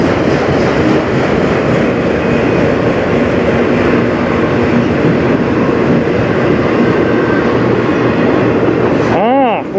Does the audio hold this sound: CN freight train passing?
yes